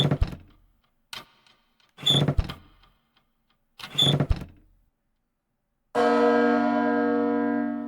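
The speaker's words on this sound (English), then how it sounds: "The bell!" A large bell tolls in the Small Saga video game, starting at once with a loud resonant strike and a long ringing decay, preceded by a few short clanks and thuds.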